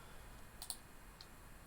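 A few faint, sparse keystroke clicks sound on a computer keyboard as a username and password are typed. Two close taps come first, then a single tap after a short pause, in a quiet room.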